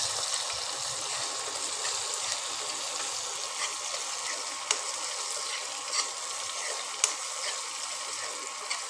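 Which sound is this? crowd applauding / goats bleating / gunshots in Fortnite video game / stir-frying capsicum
stir-frying capsicum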